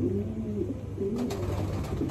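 A blue pigeon cooing nearby, a few soft low throaty coos in a row over faint background noise.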